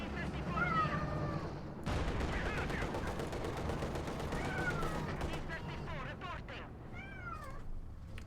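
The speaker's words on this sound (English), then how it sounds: "Basil going meow, wanting attention." A cat named Basil meows several times for attention, drawn-out rising calls that stand out over a busy backdrop of gunfire and battle noise from a strategy game, with talk running underneath.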